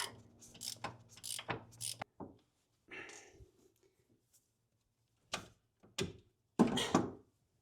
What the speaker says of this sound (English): we'll just put our ratcheting wrench on it like that